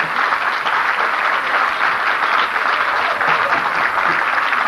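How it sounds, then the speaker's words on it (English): Audience applause after a 1992 stage performance of A Woman Called Truth: loud, dense, sustained clapping from a full crowd that holds steady for the whole stretch. "How about a roll of applause?"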